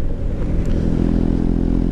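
A motorcycle fitted with an aftermarket Remus exhaust rumbles steadily up close while riding, a deep throaty exhaust drone holding a constant pitch throughout with no voices.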